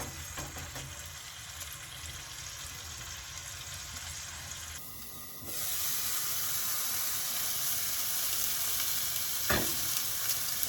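Pork tenderloin sizzles steadily in a hot pan, a constant crackling hiss that grows a little louder partway through, with a faint clink near the end.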